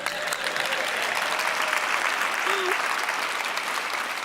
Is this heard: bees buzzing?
no